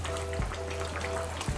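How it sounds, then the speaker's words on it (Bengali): Fried soybeans go into a pan of potato and soybean curry that hums with a low, steady sizzle, marked by a couple of soft thuds as they drop in. "এখন আমি এর মধ্যে আমি দিয়ে দেব ভেজে রাখা সয়াবিনগুলো।"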